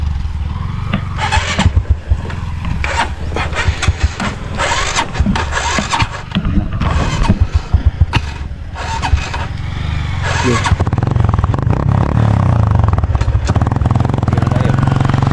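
A new motorcycle engine fires up and revs in sharp, uneven bursts, settling into a loud, steady idle close by, with people talking over it at times.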